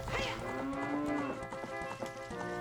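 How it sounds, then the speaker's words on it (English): A cow moos in the Zelda: Ocarina of Time video game, a long, drawn-out low bellow that rises and falls, followed by another shorter moo, loud and close over faint game sounds. "I love how Eponia is also a cow. It's like, moo, moo"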